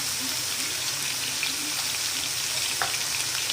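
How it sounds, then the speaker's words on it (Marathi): Ginger garlic paste sautés in oil in a pan of masala corn sabzi over medium-high flame, giving a steady close crackling sizzle with occasional light pops and no voices. "आता यामध्ये आपण 1 चम्मच लसूण अद्रक पेस्ट टाकूया"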